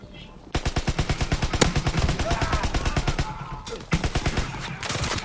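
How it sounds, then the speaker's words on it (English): Rapid automatic gunfire in the Call of Duty video game, with a loud, close, steady stream of evenly spaced shots broken by a couple of short pauses. "there's a bunch of freaking times I'm shooting these guys on gun game right now"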